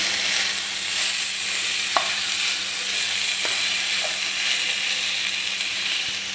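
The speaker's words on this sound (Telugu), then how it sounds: "వీటిని బాగా కలిపి లైట్గా వాటర్ వేసేసుకుందామండి." Fried okra curry being stirred in a pan, with a steady frying sizzle and hiss running throughout and a few scraping clicks of the spoon against the pan, close and alone.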